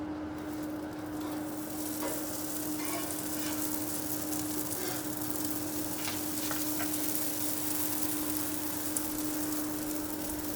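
Bread for a grilled cheese sandwich with Gouda sizzles steadily over direct heat on a grill, a constant close crackling hiss with a faint steady hum underneath.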